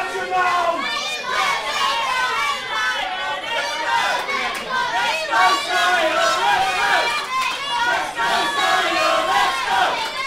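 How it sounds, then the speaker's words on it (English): A wrestling crowd at a Suffolkslam show cheers and shouts continuously, a dense, loud roar of many voices with yells rising and falling throughout. "this crowd are making some noise"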